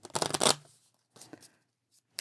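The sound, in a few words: shuffling a deck of game cards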